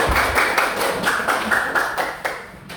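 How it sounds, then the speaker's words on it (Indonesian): A classroom of students claps for a group that has just finished presenting, a steady run of quick, crisp hand claps lasting about three seconds with no talk over it. "Tepuk tangan buat kelompok 3."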